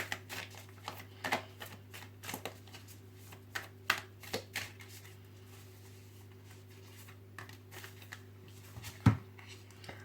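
A lunology oracle card deck being shuffled and a card drawn, soft papery flicks and taps scattered over a low steady hum, quiet and close.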